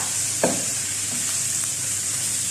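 Garlic fries in a pan with onions, giving a steady, even sizzle close by, and a spoon briefly scrapes as it stirs early on.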